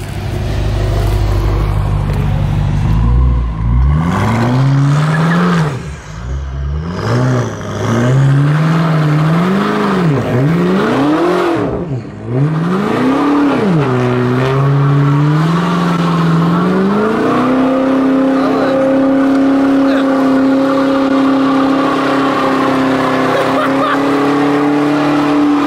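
A BMW M8 with 850 hp drifting, its engine revving hard in repeated rising and falling surges, then holding a sustained high note as tires squeal and skid, loud and close throughout.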